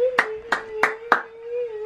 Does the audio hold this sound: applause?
yes